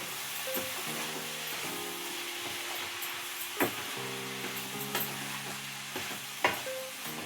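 Spring onion curry frying in a pan, a steady soft sizzle with occasional utensil scrapes and knocks from stirring, close and fairly quiet, with a faint background hum.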